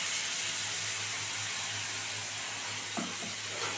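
Dry ground spice paste for an egg and pointed gourd curry sizzles and fries steadily in a pan, a constant close hiss with a brief stirring scrape near the end.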